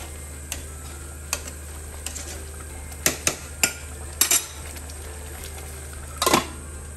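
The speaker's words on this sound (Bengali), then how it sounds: "তারপরে আমি এখন নাড়াচাড়া দিব।" A spoon stirs chicken tehari with small potatoes in a pot, giving sparse metallic clinks and scrapes against the metal rim. The knocks come in an irregular cluster over a low hum, and no one speaks.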